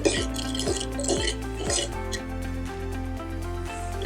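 Pancake batter of jowar, amaranth and flaxseed meal being stirred in a bowl, with repeated wet clinks of the spoon against the side in a quick rhythm, then a steady low hum.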